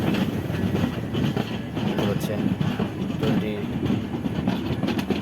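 A passenger train rolls into Ishwardi station with a steady low rumble and rhythmic wheel clatter heard from on board, close and continuous, with voices murmuring underneath.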